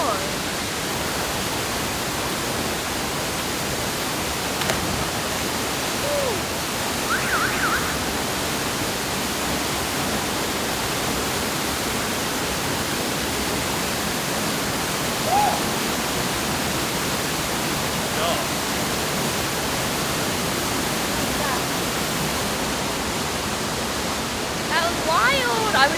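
Aling Aling waterfall in Bali, running high with seasonal water, gives a steady, dense roar of falling water that fills the whole stretch without a break. Faint voices come through now and then.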